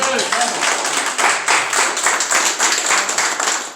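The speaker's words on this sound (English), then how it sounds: "Let's give him a hand clap today." Audience applause breaks out at a clergy council holiday brunch for a police precinct, a dense continuous patter of many hands clapping at steady loudness, with some voices mixed in.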